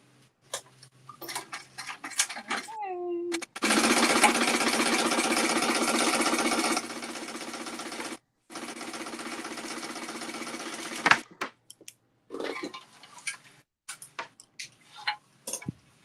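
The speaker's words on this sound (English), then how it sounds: "Sew it at 1/4 inch, and then top stitch it the same way." Sewing machine stitching a fabric accordion clutch, a loud steady whirring run of about three seconds, a pause, then a longer quieter stretch of stitching, with small handling clicks before and after.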